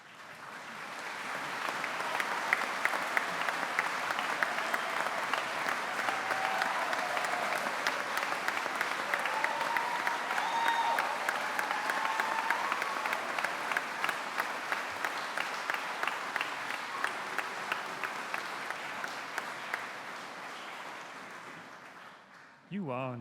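A graduation audience applauds at length for the graduands on stage, a dense, steady roar of clapping that builds quickly, holds strong for about twenty seconds and then fades out, with a few voices mixed into the crowd.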